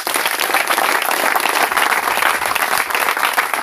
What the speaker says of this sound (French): Applaudissons pour notre Seigneur.